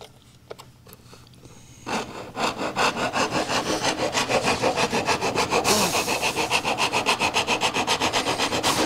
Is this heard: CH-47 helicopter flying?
no